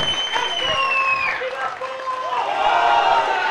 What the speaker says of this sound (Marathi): ट्रॉफीसाठी टाळ्या वाजवूयात